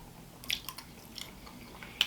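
French fries topped with gravy are bitten and chewed up close, giving soft, moist crunching and squishing, with a couple of sharper bites standing out in a quiet setting.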